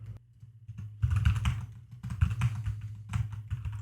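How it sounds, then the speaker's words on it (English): Keys on a computer keyboard clatter in quick, uneven bursts after a brief quiet start, close and clear with no talking over them. "If I'm typing to my friend over here"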